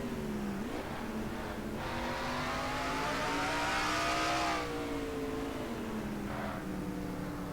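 Stock car racing video game engines drone with a steady tonal whine that climbs and shifts pitch as the cars accelerate down a straight, continuous and fairly loud with no voices.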